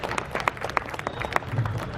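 An audience applauding at a police DSP passing-out parade, a brief burst of scattered clapping heard from a middle distance, moderately loud with crisp individual claps.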